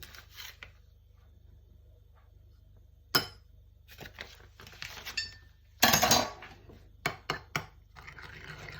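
Utensils clink and scrape against a bowl in short bursts while mixing a salad, with quiet pauses between stirs, close by.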